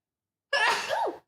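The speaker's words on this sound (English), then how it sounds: "That was a random sneeze." A single sharp sneeze, close and sudden, bursting out of silence and ending quickly.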